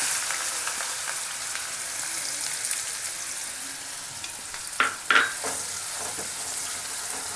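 Chopped onions hitting hot oil with mustard seeds and cumin, giving a steady close sizzle with a few sharp spatters and stirring bursts near the middle.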